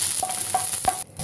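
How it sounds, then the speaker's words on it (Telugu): Torn green chillies stir-fried in one to two tablespoons of oil, with a steady sizzle under repeated scraping strokes of the stirring spoon, close and unbroken. "ఇలా స్టిర్ చేసుకుంటూ ఫ్రై చేసుకోవాలి మనం మిర్చిని"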